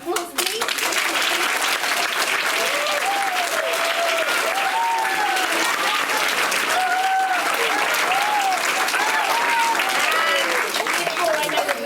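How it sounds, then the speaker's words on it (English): A school audience gives a long round of applause for a Year 4 assembly, loud, dense and sustained clapping with children's voices calling out over it. "could we give you another round of applause"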